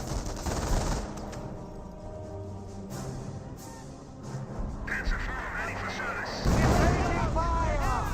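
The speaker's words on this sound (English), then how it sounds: "Good hits there by the Howitzer." Howitzer shells land in a Company of Heroes battle, heavy booming impacts and gunfire rumbling through a dense wartime mix, with a commentator talking over the action.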